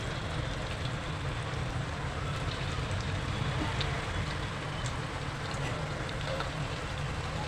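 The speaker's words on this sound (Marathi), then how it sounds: "तेल चांगलं तापलेलं आहे गॅस थोडंसं स्लो केलेला आहे आता आपण हे उपवासाचे नगेट्स घालूया" Fasting nuggets sizzle in hot oil over a lowered gas flame, a steady dense crackle and hiss from start to finish, close and continuous with no talk.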